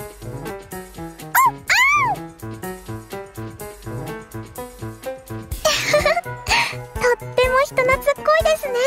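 A puppy in the game Sword Art Online Hollow Realization yips and barks in short bursts over background music, with a few high whimpering calls mixed in.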